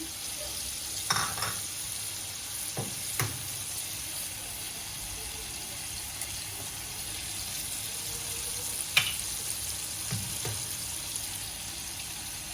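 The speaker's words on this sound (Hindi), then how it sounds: "अब मैं इसमें अंडे डालूंगी।" Eggs cooking with tomatoes in a pan, a quiet steady sizzle with a few scattered utensil knocks and scrapes, no talking.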